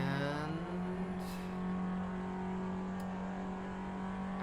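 A Toyota Prius engine in a racing video game at Monza holds a steady, droning tone while accelerating. A brief shift comes near the start, then a constant hum.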